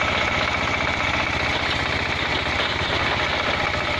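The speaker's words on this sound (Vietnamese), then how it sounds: "Con máy Nhật bãi mình đang thử cái độ leo dốc của nó nhé." Rebuilt machine on a Japanese frame with a Chinese 178 diesel engine, climbing a slope on a mountain forest track: a loud, close, continuous chugging diesel drone with a steady fast knock that holds throughout.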